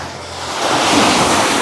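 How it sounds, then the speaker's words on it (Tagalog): Strong ocean waves crash close by, a loud, broad wash of surf swelling and holding with wind mixed in. "Ang lakas ng alon, no?"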